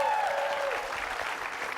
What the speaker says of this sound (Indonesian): Tepuk tangan dulu dong, Bu.